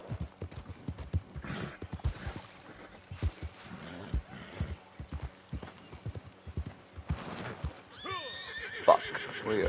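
Horse hooves clip-clop in a rapid galloping rhythm with several sharp neighs in the Red Dead Redemption 2 video game, close and busy, ending in a loud whinny.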